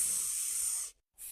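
A sharp, breathy hiss like a snake, broken by a brief silence before the hiss resumes, close and fairly quiet.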